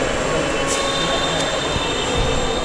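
Vibration machine for cement mortar cubes running with a steady loud hum and buzzing drone, close and continuous throughout.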